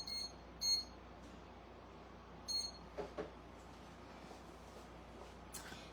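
A kitchen timer beeps while holiday pies bake: two brief, bright bursts of rapid beeping about two seconds apart, fairly quiet over a steady room hum, with no talking.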